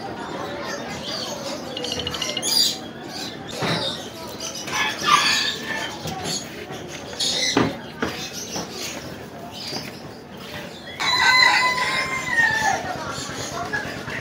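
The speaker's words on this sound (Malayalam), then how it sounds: "ഇപ്പുറത്തെ ഒരു കോഴികളുടെ ഒരു സെക്ഷൻ ഉണ്ട്." Chickens and roosters in a poultry section at the Ashtami Fest fair on Vaikom beach in Kerala, with scattered crows and clucks rising over a busy crowd murmur and some voices.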